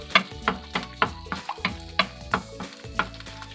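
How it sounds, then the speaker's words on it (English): Beaten egg stirred in a hot frying pan for egg fried rice: a steady train of sharp utensil scrapes and taps, roughly three per second, close and clear over a soft sizzle. "And stir it until it cooks."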